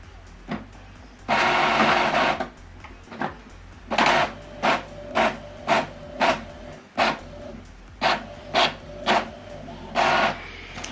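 An Epson printer printing a single page in black and white, starting with a longer whirring feed, then a run of rhythmic mechanical pulses as the print head passes back and forth, with short pauses in between, close and clear, no talk.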